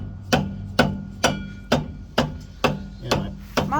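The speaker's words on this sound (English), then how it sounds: "Now it comes time to hit it with a hammer." A hammer strikes the crank pulley on a 1964 Chevrolet Suburban, giving eight sharp metallic blows at a steady, even rhythm about half a second apart, loud and close, with no talking.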